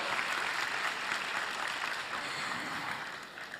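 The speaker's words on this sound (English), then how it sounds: "Can I have a big round of applause for the amazing CSOs?" Steady applause from a large conference audience of civil society groups in a ballroom, filling the whole stretch at an even, sustained level before easing slightly at the end.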